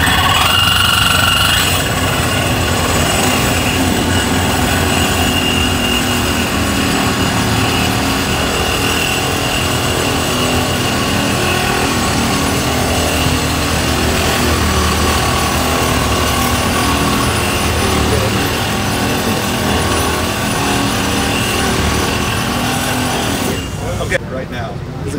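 A Lenox Competitor saw cuts schedule 40 stainless steel pipe at a World of Concrete trade show demo, giving a loud, steady grinding drone that runs unbroken for the full length before stopping abruptly near the end.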